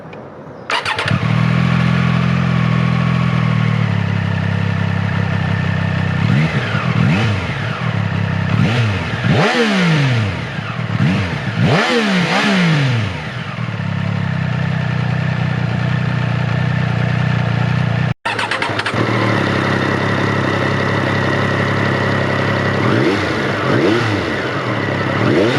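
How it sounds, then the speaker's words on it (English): A Triumph Daytona 765 Moto2 motorcycle with a three-cylinder engine and titanium exhaust starts up and idles, then is revved hard several times in rising and falling sweeps, loud and close, before it settles back to a steady idle. "there is no denying the lovely induction sound and unique notes of the triple engine"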